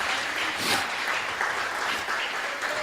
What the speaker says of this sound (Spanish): Dele aplauso fuerte al Señor en esta hora.